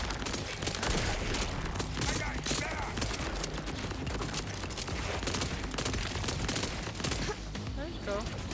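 Small pistol firing in a video game, a dense run of rapid, punchy shots that continues without a break while a person talks over it.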